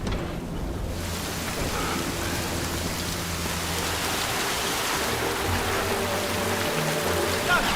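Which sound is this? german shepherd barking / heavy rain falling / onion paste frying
heavy rain falling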